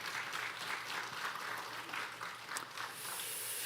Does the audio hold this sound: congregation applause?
yes